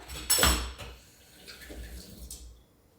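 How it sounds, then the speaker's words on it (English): A clink of a utensil followed by a brief splash and gurgle of running water, moderately close, then fading to quiet. "let me rinse this spoon of water"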